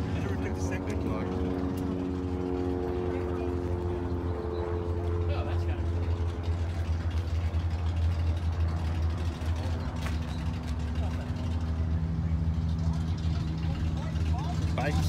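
A big-block Chevrolet Camaro engine runs at idle at an outdoor cars-and-coffee meet, a deep steady rumble close by, with people talking over it throughout.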